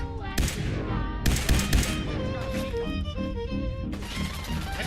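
Gunshots from the video game Fallout 4 played with mods, loud sharp bursts near the start and again later, layered over game music and background sound with no clear talk.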